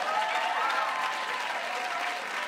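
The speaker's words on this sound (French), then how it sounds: "qui nous donne des applaudissements nourris" Dense, steady applause from a comedy club audience, a full crowd clapping continuously and evenly throughout without any voices standing out.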